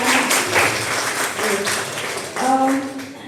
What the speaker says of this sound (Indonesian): Ya, tepuk tangan anak-anak.